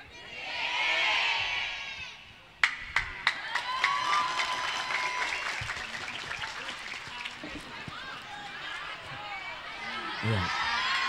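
After a voice, an audience breaks into sustained applause, beginning with a few sharp claps and swelling into a steady wash of clapping with some crowd murmur, moderately distant.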